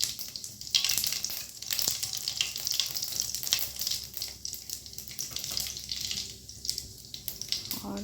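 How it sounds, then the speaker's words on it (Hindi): Cumin seeds and onion crackle and sizzle in hot oil for an okra tadka, a busy, continuous frying hiss with stirring and scattered pops close by. "तो तेल भी गरम हो गया है। मैं सबसे पहले जीरा डालूँगी"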